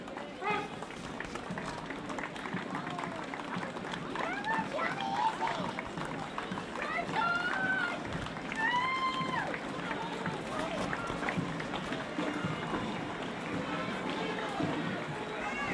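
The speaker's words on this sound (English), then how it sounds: "Lots of clapping and cheers coming from people watching on the street." Spectators lining the street at an Anzac Day march in Darwin clap and cheer steadily, a broad sustained wash of crowd noise with some whistles, heard under a commentator's voice.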